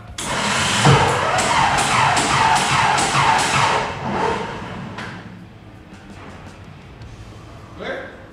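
A homemade P-51 Mustang replica's aircraft engine cranks with a rapid rhythmic chugging for about four seconds, then fades to a low idle-like rumble with a brief burst near the end; voices are heard.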